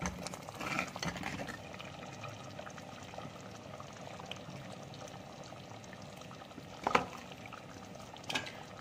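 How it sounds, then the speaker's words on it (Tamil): Sardine fish curry (mathi meen kulambu) simmering in a covered pot, a soft steady bubbling close by, with a couple of brief clinks. "இப்போ நல்லா கொதிச்சுட்டு நம்ம வந்து மீன் போட்டுக்கலாம்."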